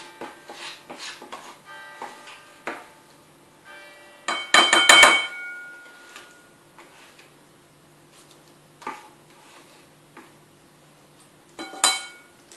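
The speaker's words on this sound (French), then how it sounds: "Et on met tout ça dans une casserole qui va aller sur le feu." Ingredients for an eggplant salad go into a saucepan, making scattered clinks and clatters of utensils against the pan, with one louder clattering burst midway and sparse knocks after.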